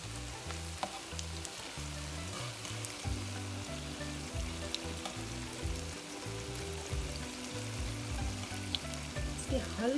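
Jalebi frying in ghee gives a steady close sizzle and bubbling, with soft clicks of stirring mixed in. The sound runs continuously throughout, with no talking.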